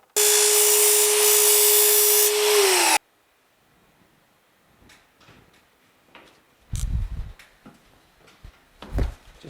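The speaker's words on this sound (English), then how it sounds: "it's actually spinning backwards, and that really helps eliminate chipping and chattering of the blade as it goes through the bead" A Festool miter saw with its blade spinning backwards cuts through cornerbead, giving a loud steady whine for about three seconds that drops in pitch as it winds down. Quiet handling knocks and a couple of thumps follow.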